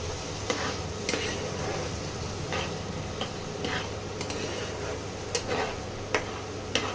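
A spatula stirs and scrapes mustard and poppy-seed masala in a pan for a fish curry: a steady close sizzle broken by regular sharp scraping strokes, with no talking.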